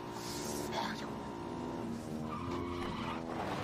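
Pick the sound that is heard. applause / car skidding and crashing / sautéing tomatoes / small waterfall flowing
car skidding and crashing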